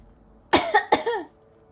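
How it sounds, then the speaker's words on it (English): Two sharp, close coughs come in quick succession from a person with throat drainage, heard alone against a quiet background. "if you hear me like coughing or anything, it's just drainage"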